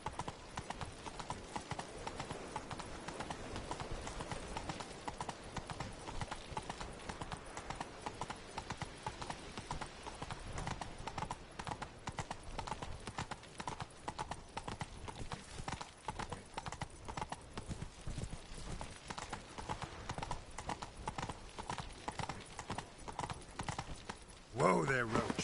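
Galloping hooves of Roach, the horse in The Witcher 3, beating out a steady rapid clip-clop rhythm throughout, close and fairly loud, with a brief snort or whinny near the end and faint voices in the background.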